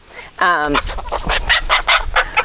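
A Whiting's True Blue hen clucks in a short burst of rhythmic, close calls on an urban farm, with a voice speaking over and between the clucks.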